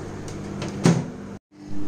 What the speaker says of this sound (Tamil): நான் 180 டிகிரி சென்டிகிரேட்க்கு ஆல்ரெடி ப்ரீஹீட் பண்ணியிருக்கேன். இப்போ இதுக்குள்ளே இதை வச்சிடலாம்.